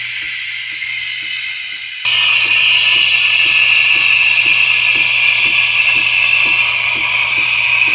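A Ninja Luxe Cafe ES601 espresso machine froths milk with a loud, steady high hiss, preceded by a quieter pulsing hum, with rhythmic ticking throughout as the frother stirs and pauses.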